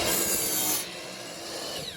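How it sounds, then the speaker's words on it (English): A miter saw cuts through wood pieces while building a squirrel bench, with a loud broadband whine of blade and wood for most of two seconds, dropping slightly as the cut finishes and the blade spins on. "Then I use my miter saw carefully."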